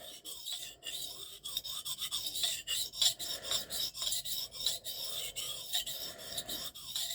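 A knife of M398, Maxamet or MagnaCut steel is sharpened on a stone with a radius corner, giving close, rhythmic rasping strokes in steady succession and brief pauses between passes.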